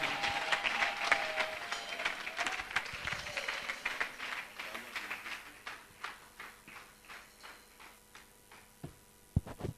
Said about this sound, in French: pousse une chaude acclamation pour le Seigneur.